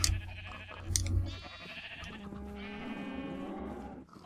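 Sheep in the video game Minecraft give a few drawn-out, wavering bleats, fairly quiet, with low rumbling game ambience beneath and no talking.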